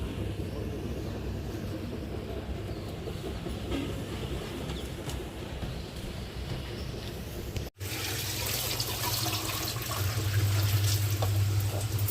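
Water pours steadily into a clay pot for several seconds, a continuous splashing fill that briefly cuts out and then resumes, with faint bird calls in the background.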